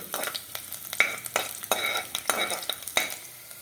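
Hot oil sizzling steadily as two long-cut garlic cloves fry for chow chow kootu, with sharp scraping and stirring strokes of a utensil at irregular intervals.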